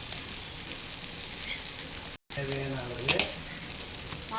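Spices for chicken gravy sauté in a pan, giving a soft steady sizzle with occasional stirring scrapes; a brief dropout interrupts the sound midway, and no one speaks.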